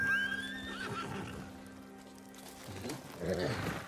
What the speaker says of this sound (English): Where'd my fucking horse go?